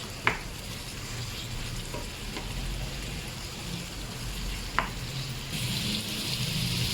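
Chopped bell pepper goes into chicken afritada in a hot pan, bringing a steady moderate sizzle with a couple of sharp clinks of a utensil against the pan and no talking.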